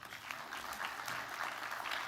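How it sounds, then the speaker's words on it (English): Steady, dense crowd applause at an academic awards ceremony, a continuous wash of many hands clapping at moderate level throughout. "So we will, yes, round of applause."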